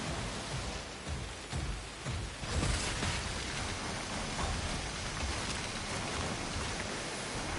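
Heavy rain falls in a video game scene on a dock, a dense, constant rushing hiss that swells briefly around the middle and keeps going with no voices over it.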